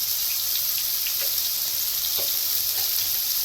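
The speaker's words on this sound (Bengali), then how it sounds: "বন্ধুরা তেল বেড়ে গেছে সামান্য একটু এখন আমি জল দেবো" Water splashed into hot oil for a spicy bata fish curry, a constant dense sizzle that stays loud and even, with faint bubbling crackles scattered through it.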